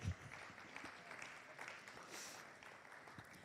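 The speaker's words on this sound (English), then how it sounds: "Oh, if you are clapping, you can do it better for him." Faint, scattered audience clapping at a report launch event, a thin, distant patter of hands that continues evenly with a few brief louder bumps.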